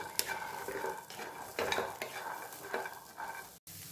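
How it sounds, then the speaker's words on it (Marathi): Green peas roasting in a pan for kachori filling, a soft sizzle under repeated scraping and clinking strokes of a spoon against the pan, close and fairly quiet. "आता हे मटार जे आहे ते भाजून घ्यायचे आहेत"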